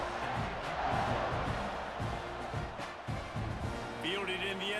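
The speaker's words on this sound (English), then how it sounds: "this crowd is buzzing after that last score" A stadium crowd at a college football game between Utah State and Texas A&M buzzes after a touchdown, a steady dense roar under continuous play-by-play commentary, with a brief whistle-like tone near the end.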